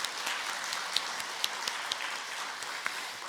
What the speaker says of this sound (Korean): 우리 이 시간 우리 가시기 전에 먼저 박수로 한번 여러분 격려해 주시기 바랍니다.